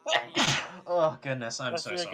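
A single sharp sneeze cuts through casual conversation at a Dungeons & Dragons table session, with voices talking just before and after it.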